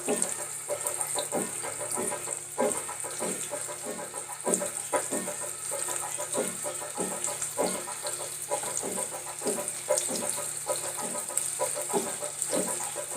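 Fish pieces shallow fry in preheated oil in a pan, giving a steady, close hiss with rhythmic spattering crackles through the whole stretch and no voices.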